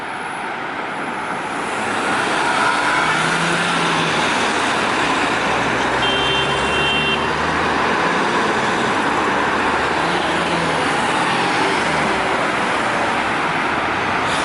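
Road traffic in the city centre of Adana, Turkey: a continuous loud roar of cars and trucks passing nearby, with a steady rumble throughout and no talk.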